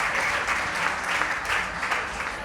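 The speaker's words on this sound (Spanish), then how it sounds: "un fuerte aplauso para Antonio Cano, gerente del Conchel, que nos acompaña" A crowd claps steadily and fairly loudly for a couple of seconds, honoring Antonio Cano, manager of El Conchel, with the applause sustained and even throughout.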